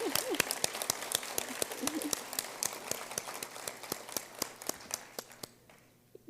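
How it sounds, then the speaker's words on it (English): A crowd applauds with sharp, scattered claps that thin out and fade toward the end; a voice murmurs faintly beneath. "I think that deserves applause."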